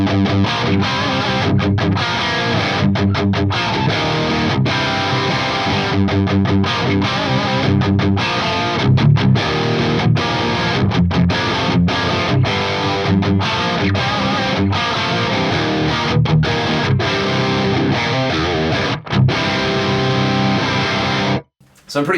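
An electric guitar runs through an Axe Fx III preset using the Atomica amp model and a 57MC impulse, playing loud, continuous distorted riffs with brief rhythmic stops before cutting off abruptly.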